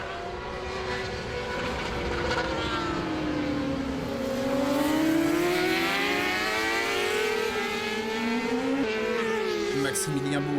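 Superbike racing motorcycles at the Pau Arnos circuit in French superbike competition, their engines rising and falling in pitch as they pass nearby, loud and sustained, with commentary spoken over the roar.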